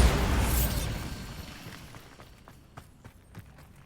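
In the Hogwarts Legacy video game, a Bombarda spell explodes with a loud blast at the start, then the sound decays over a couple of seconds, followed by scattered faint pops and footstep-like clicks.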